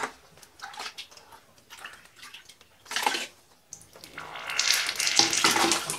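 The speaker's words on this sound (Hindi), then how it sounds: "यहाँ से मैं बाल्टी से पानी इसमें डाल देता हूँ" Water tipped from a bucket into the input pipe of a homemade portable water heater, heard as intermittent splashing bursts that swell into a louder continuous gushing pour toward the end.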